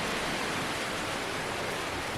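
Heavy wind and rain roar as a dense, continuous wash of noise, loud and close, with no pauses or voices.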